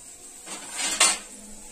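A lid set down onto a pan of masala bhendi cooking on low heat, a soft metallic sliding scrape followed by a single light clink, close and brief against a quiet background.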